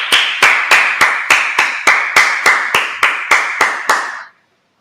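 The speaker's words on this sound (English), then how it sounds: "All right, let's clap it up." Audience at a church service clapping hands in a steady unison beat, about thirteen sharp, loud claps at an even rhythm before stopping abruptly into silence.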